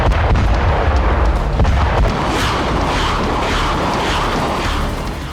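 Russian military strike explosions in Ukraine: a heavy, sustained roar of blasts and rumbling artillery fire, loud and dense at first, then easing slightly toward the end.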